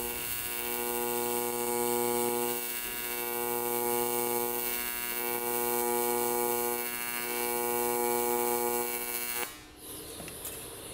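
A CyberWeld arc welder running in pulsed mode lays down weld beads one at a time, giving a steady close electrical buzz with slow rhythmic swells in level, then a sudden break near the end.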